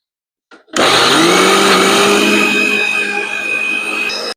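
After a brief clatter, an electric mixer grinder whirs to life and runs loud and steady at close range, its motor whine holding until it cuts off.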